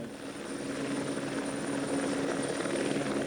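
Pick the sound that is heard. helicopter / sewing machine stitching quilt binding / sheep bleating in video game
helicopter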